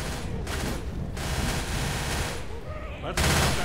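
Gunfire in the Left 4 Dead 2 zombie video game, bursts of rapid shots separated by short pauses, loud and close, with a final heavier burst at the end.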